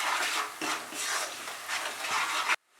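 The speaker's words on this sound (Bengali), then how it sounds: "এবারে মশলাটাকে আমি কষিয়ে নেব।" Mutton liver curry spice paste (masala) being stir-fried over medium heat, a steady close sizzle broken by regular scraping strokes of a spoon through the pan, loud and continuous until it cuts off abruptly.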